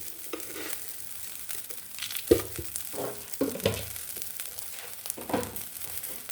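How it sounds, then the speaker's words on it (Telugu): Spices for a tadka sizzling in hot oil while cooking a Telugu dondakaya curry, soft crackling with a few scraping stirs and clinks, fairly quiet and close. "వేగిపోయింది తిరగమాత"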